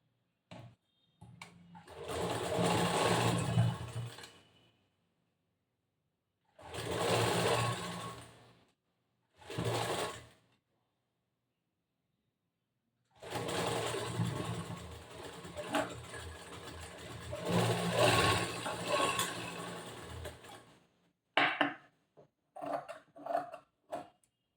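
A sewing machine stitches the lining cloth of a blouse, running in several separate bursts of steady whirring and rattling, some short and some several seconds long, with quiet pauses between them and no talk.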